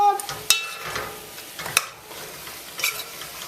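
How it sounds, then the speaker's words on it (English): Curry chicken stirred and sizzling in a pot, a soft steady frying hiss broken by a few scraping clinks of the spoon against the pot bottom, close up with no talking. "all I'm doing is pretty much stirring this, because I want to pick up all that curry flavor, all that curry goodness on the bottom of the pot"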